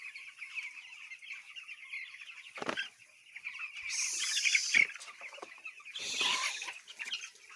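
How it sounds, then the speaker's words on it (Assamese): Fourteen-day-old chicks peep and cluck close by in a repeated stream of high chirps, with a couple of short bursts of wing flapping and scuffling in between. "আজি 14 দিনীয়া পোৱালি মোৰ।"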